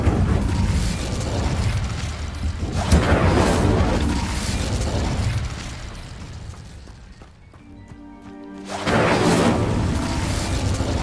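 The Incendio fire spell cast in Hogwarts Legacy: a loud burst of flame with whooshing, rumbling bursts, a quieter mechanical stretch with a brief tonal hum, then another strong roaring burst near the end.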